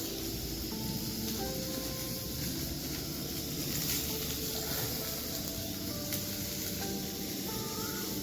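Spring onion greens frying in a little oil in a pan give a steady, close sizzling hiss that holds evenly throughout, with faint background hum and no talking.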